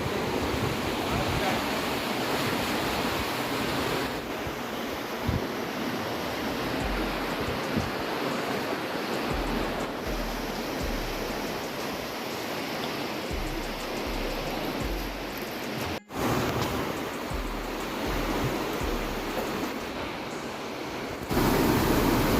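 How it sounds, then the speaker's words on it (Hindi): Water at a village pond, heard as a steady, loud wash of rushing water that continues without a break for the whole stretch. Low rumbles and faint bird calls sit underneath it. "ये पानी का मंजर बहुत ही खूबसूरत है, उसका जो साउंड है बहुत अमेजिंग है"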